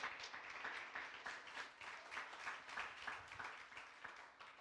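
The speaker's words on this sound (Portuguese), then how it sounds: "Você pode dar uma salva de palmas para Jesus?" A church congregation applauds during a worship service, with a steady patter of many hands that is faint and somewhat distant, continuing evenly without any voices over it.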